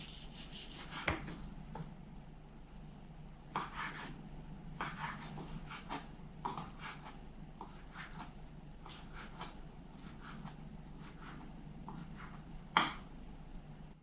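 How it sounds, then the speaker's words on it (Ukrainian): A knife cuts meat into thin strips on a board, giving soft, quiet scraping and rubbing strokes with occasional sharper taps of the blade against the wood. "М'яско буду нарізати на полосочки."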